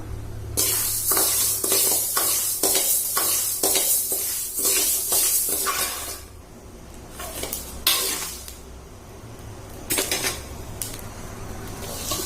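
Lentils dry-roasting in a pan are stirred briskly, giving rapid repeated scraping and rattling of the spoon on metal with a light dry sizzle, loud and close, thinning out in the second half.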